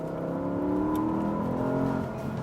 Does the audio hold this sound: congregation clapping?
no